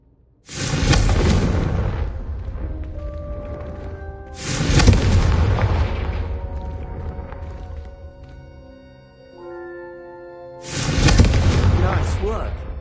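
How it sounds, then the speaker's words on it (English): Three loud fiery blasts from the Confringo spell strike candelabras in the Hogwarts game, each a sharp boom with a long crackling, ringing decay, spaced several seconds apart with quieter tonal chimes between. "a Confringo cast travels a bit farther than that of a spell like Incendio"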